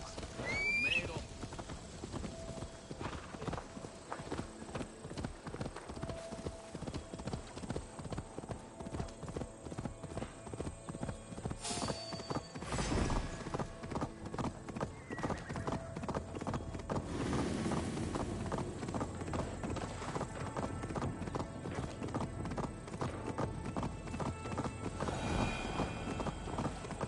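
Steady rhythmic hoof clip-clops of horses walking in the game Assassin's Creed Valhalla, with an occasional whinny and voices speaking over them.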